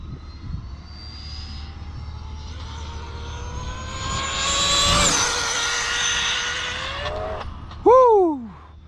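An Arrma Typhon 6S RC car on a Castle 1717 1650kv motor with an MMX8S controller makes a speed pass, its electric whine rising steadily in pitch, peaking loudly as it passes close, then dropping as it slows, with a short burst of voice at the end.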